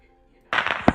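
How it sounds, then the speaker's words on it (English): Fireworks bursting over victory lane at ISM Raceway after a race: a sudden loud crackling burst after silence, followed by a sharp bang near the end. "down here in victory lane as the fireworks going off there"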